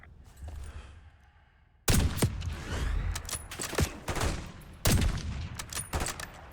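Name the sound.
gunfire in video game Call of Duty Black Ops 6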